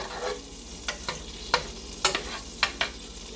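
Butter with a little olive oil sizzling in a pan, a steady frying hiss broken by several sharp spatula scrapes and clicks at uneven intervals.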